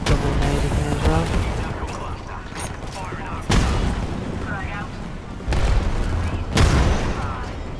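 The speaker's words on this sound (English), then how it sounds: "Incoming grenade. Double nade again as well." Grenade blasts in Apex Legends, several heavy booms spaced a second or two apart amid game noise, with a player talking over them.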